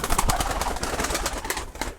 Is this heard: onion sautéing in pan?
no